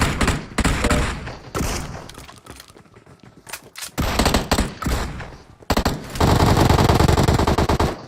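Rapid automatic weapon fire from the PUBG Mobile video game comes in loud bursts separated by short pauses, ending in a long, dense sustained volley.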